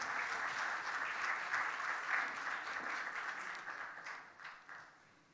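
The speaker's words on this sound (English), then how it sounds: "let's welcome with a big round of applause Mr." An audience at a conference gives a warm round of applause to welcome a speaker, loud at first, then gradually tapering off.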